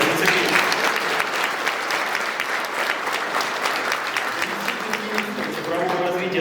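Loud, dense audience applause fills a forum plenary hall as officials and speakers are welcomed, with crowd murmur and some talking audible beneath the steady clapping.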